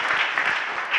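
A church congregation applauding during an ordination service, a brief burst of dense clapping from many hands, fairly close and lively, with no speech over it.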